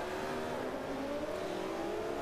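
Race car engine in the Forza Motorsport 5 video game, driven in splitscreen, holding a steady loud drone with a slowly rising pitch as it accelerates, with no talk over it.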